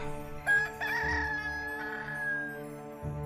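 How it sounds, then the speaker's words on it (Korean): A rooster crows once in a long, drawn-out, tonal call that rises and then fades, heard close and clear with no talking. "곧 달기 울더라"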